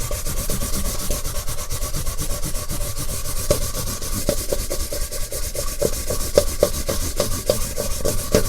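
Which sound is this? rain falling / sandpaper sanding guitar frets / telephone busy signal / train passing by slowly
sandpaper sanding guitar frets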